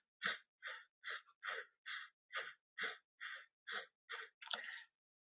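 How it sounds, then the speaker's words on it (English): A nasal breathing exercise: eleven evenly spaced breathy puffs through the nose, close and isolated against silence, each roughly a third of a second, the last one longer and rougher. "in through my nose, exhaling through my nose, and my belly is going out when I inhale and in when I exhale"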